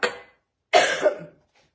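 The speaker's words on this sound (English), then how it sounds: "I'm coughing, I apologize" Two close coughs from one person, a short one followed after a pause by a longer, harsher one that trails off.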